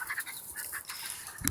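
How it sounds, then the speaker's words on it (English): Chickens make a few faint, soft clucks close by against quiet background noise, with a slightly louder call right at the end. "There's the chickens."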